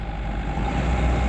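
A heavy equipment engine idling at raised throttle while clearing tall pines, a loud, steady low rumble with a faint hum throughout, no voices.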